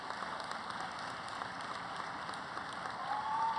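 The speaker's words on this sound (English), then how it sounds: "Let's give it another round of applause to you." An audience at an awards ceremony applauds steadily, a dense even patter of many hands clapping that swells slightly toward the end, with a faint voice or cheer near the close.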